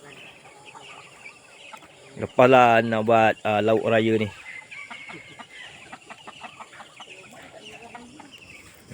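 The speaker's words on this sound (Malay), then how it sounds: "jom kita tengok sikit ayam-ayam yang mak saya ternak di kampung lah" Village-raised chickens cluck and call close by, with one loud, drawn-out burst of calls in the middle, while someone talks nearby.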